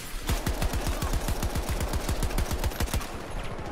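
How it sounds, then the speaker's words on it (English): Rapid automatic gunfire in Battlefield 2042, a loud, evenly spaced burst of about twenty shots in quick rhythm, with scattered sharper cracks layered on top and no voices. "They're shooting us from across."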